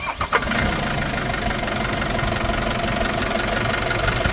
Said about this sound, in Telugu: ఒకసారి ఇంజిన్ స్టార్ట్ చేసి చూపిస్తానండి